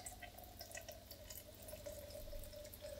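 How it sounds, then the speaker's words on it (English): Water from a four-stage reverse osmosis unit runs quietly and steadily into a container, a faint trickle with a low hum beneath. "I'm just gonna grab some of this water in here."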